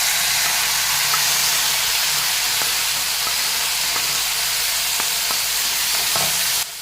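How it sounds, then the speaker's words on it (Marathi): Chopped tomatoes fry in a pan with green capsicum for a tomato chutney, giving a steady close sizzle and hiss broken by occasional sharp clicks of stirring. "छानसे आपल्याला तळून घ्यायचे आहेत"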